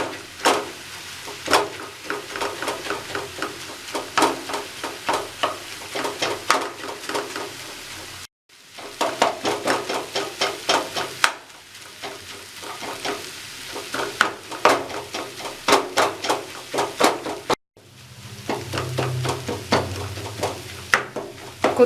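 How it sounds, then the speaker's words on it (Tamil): Kothu parotta on a hot pan is chopped and mixed with a rapid, rhythmic clatter of metal blades striking the griddle, fast repeated clanks over a low sizzle, broken by a few short pauses across a long run with no talking. "இனி நம்ம அதை கொத்தி விட்டுடலாம்."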